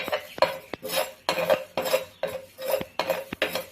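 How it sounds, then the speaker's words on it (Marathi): Mustard seeds and half a spoon of fenugreek seeds dry-roast in a pan for a carrot and chilli pickle, with about seven regular, close scraping and stirring strokes against the metal and no talk. "थोडीशी मोहरी आणि ते मी अर्धा चमचा मेथी घेते आपल्याला छान भाजून घ्यायचं"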